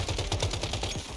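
Rapid gunfire from a crafted gun in the survival game Once Human, a quick run of evenly spaced shots, fairly faint and close, with no talk over it.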